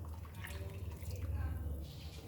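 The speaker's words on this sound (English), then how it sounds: "So now I will add this water to this," Water poured into a pot of cooking dal makhani (black dal), a steady trickling splash over a low rumble lasting about two seconds.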